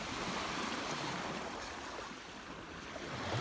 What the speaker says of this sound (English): Not like today with the waves.